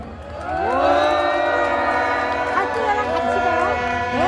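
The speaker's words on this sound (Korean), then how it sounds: "큰 박수로 우리의 리더, 우리의 대표 석동현 변호사님을 소개하겠습니다" A large outdoor rally crowd near Gwanghwamun and the Constitutional Court greets lawyer Seok Dong-hyun with loud, sustained cheering and shouting, with whistle-like tones and siren-like wails running through the steady roar.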